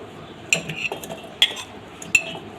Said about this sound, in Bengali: এখানে আমি একটি ব্ল্যান্ডারের জার নিয়েছি এখন সবগুলো আম এটার মধ্যে দিয়ে দেব এখানে আমগুলো সবগুলো দিয়ে দিচ্ছি